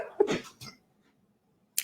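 A person sneezes up close in a quiet room, one sharp explosive burst with a short follow-through, then silence and a brief faint noise at the end.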